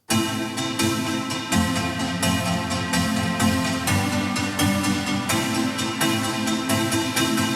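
Rapid chords strummed in a steady sixteenth-note pattern, some strokes hit harder than others, loud and continuous throughout.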